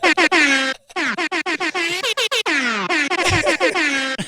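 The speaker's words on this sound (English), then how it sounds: "Let's give him a super air horn." A series of loud, blaring air horn blasts in rapid, stuttering succession, close and harsh, with a brief gap near the start.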